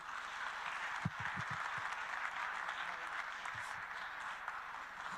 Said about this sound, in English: Please, another round of applause to Dr. Kaberuka.